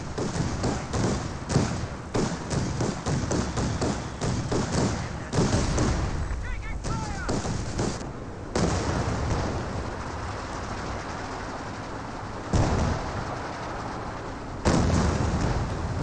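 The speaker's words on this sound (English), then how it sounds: "Like a more high explosive rounds coming on in from the pack houses." Mortar and high-explosive rounds land in a war video game, heavy thuds and booming impacts, some close and loud, others rumbling farther off, with someone talking over the barrage.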